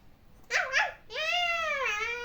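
A dog in the video game Avatar World whimpers in two short whiny bursts, then lets out a long, drawn-out whine; close and fairly clear, with no talking.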